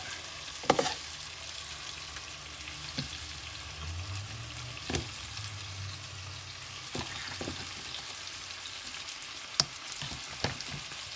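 Potatoes cook in a pan for rabbit fricassee, a soft steady sizzle with several sharp scrapes and clinks of a utensil against the pan, no talking.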